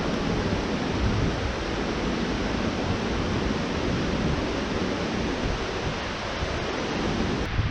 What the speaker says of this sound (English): I can feel the mist from the waterfall